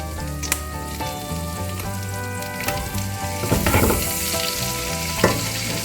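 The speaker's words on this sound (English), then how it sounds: "Add mushrooms and onion and cook until mushrooms have released their moisture and the moisture is cooked off." Mushrooms and onion sizzle in a hot pan with a continuous crackle, swelling briefly as they are stirred, and a few sharp utensil knocks come through over soft background music.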